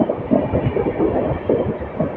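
The Hisar–Hyderabad Express runs with a low, rhythmic rumble and throbbing clatter from its wheels, heard steadily and close with no voices.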